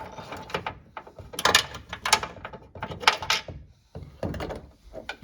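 Ratchet working on a bolt under a Toyota Tundra during engine removal, bursts of rapid clicking and metallic clatter in short uneven groups, fairly close.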